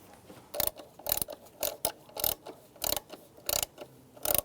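Hand ratchet tightening an ignition coil bolt on a Cadillac DTS, a series of crisp, close clicking bursts in a regular back-and-forth rhythm, about eight strokes, with no talking.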